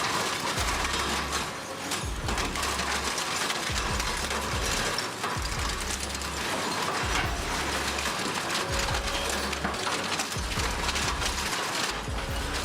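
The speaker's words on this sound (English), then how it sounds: "The Red Giant's dual shafts rotate with brutal calm, each tooth biting metal like it's bread crust." Red Giant dual-shaft shredder crushing scrap metal, a dense grinding clatter with repeated low thumps and crunching that pulse at an uneven rhythm, loud and continuous, with no voices.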